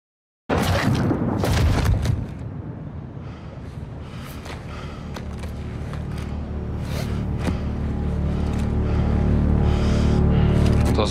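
Gunshot in Call of Duty Modern Warfare 2, a sudden loud sharp report that cuts in from silence and rings out, followed by a lingering low rumble and ambient battlefield noise building steadily; no talking.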